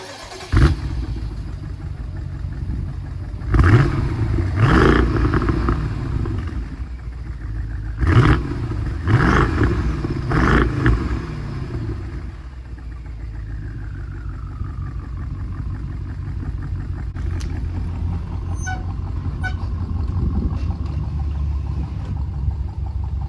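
A BMW N63TU engine with new injectors and downpipes cranks and catches, revving in several sharp bursts before settling into a steady idle rumble.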